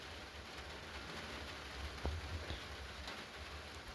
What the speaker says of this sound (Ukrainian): Дощик йде, хай росте. Серце радується, що дощ йде.